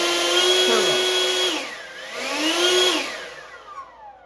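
A Sihuird electric leaf blower whirs steadily, its motor pitch dropping and rising as it steps through speed settings, whining loud and close before winding down at the end.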